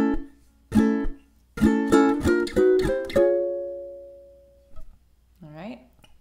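A ukulele plays the opening measure of a song, a run of plucked notes in a quick uneven rhythm ending in a ringing held note, followed by a brief voice near the end.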